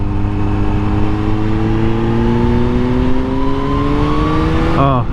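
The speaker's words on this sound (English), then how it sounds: "It's the most beautiful riding motorcycle." Motorcycle riding along a road in southern New Brunswick: a loud, steady engine drone that climbs gradually in pitch as it speeds up, then shifts abruptly near the end, with no talking.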